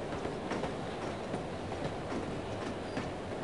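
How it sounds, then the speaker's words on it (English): Moving train in the video game No One Lives Forever: a steady rumbling ride with rhythmic clickety-clack of wheels on rails, continuous and fairly close, with no talking. "we are on a train."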